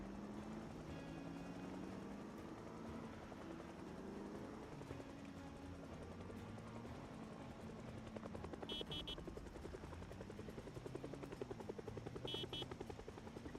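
A helicopter in the Project Zomboid video game thrums steadily overhead for the whole stretch, a continuous loud rotor drone with shifting engine tones and a few faint clicks near the end.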